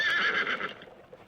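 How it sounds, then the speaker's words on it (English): A horse shies violently and gives a loud, high whinny that fades over about a second, with a faint clip-clop of hooves under it. "The horse shied violently."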